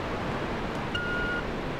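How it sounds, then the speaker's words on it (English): A waterfall in Resident Evil 2 gives a steady, even rush of falling water, with a faint brief tone ringing over it partway through. "Waterfall will turn off so I can go through DOS door."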